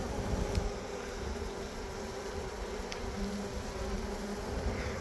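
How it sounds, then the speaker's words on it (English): A dense, continuous buzz of a honey bee swarm fills the air, steady and close, with no voices. "They're sitting there with their butts up in the air, saying this way, this way."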